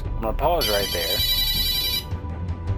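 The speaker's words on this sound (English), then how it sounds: "Sorry for the phone ringing in the background." A telephone rings in the background with a bright, electronic ringtone that sounds in one burst of about a second and a half, partly under a man's speech.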